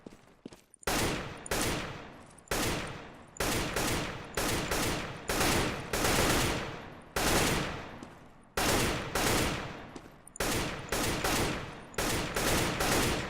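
Rapid bursts of gunfire in Counter-Strike: Global Offensive, loud repeated volleys of automatic shots separated by brief pauses, with no talking.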